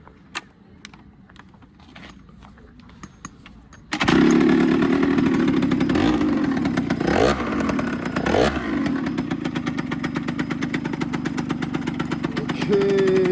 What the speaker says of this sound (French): Je vous démarre le scooter.